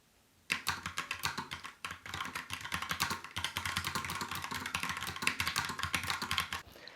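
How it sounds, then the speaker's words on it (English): Steady, fast typing on a Logitech Pop Keys wireless mechanical keyboard with round keys, crisp close clicks in a dense continuous run, with one brief pause early on. "Typing on this keyboard feels nice"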